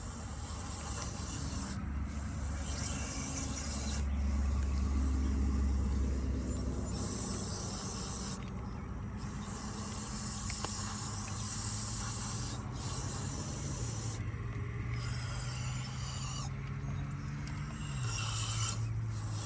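An aerosol spray can gives a steady, harsh spraying hiss for the whole stretch with brief breaks, close and fairly loud, with no voices.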